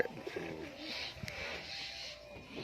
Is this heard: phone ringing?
no